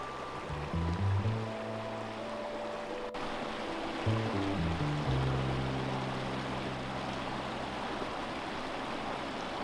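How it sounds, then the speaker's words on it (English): A creek in the Pecos Wilderness runs beside a grassy mountain meadow, a steady, soft rushing of flowing water, briefly joined early on by a low humming drone. "It's a nice, pretty stream through here."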